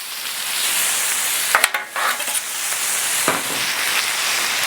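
Onions and jalapenos sizzling steadily on a hot Blackstone griddle, a bright continuous hiss broken by a few clacks of a spatula, close and loud.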